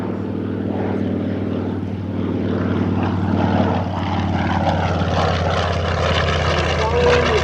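A P-40 Warhawk propeller fighter plane drones past at an air show with a steady engine rumble that swells slightly, while someone talks over it.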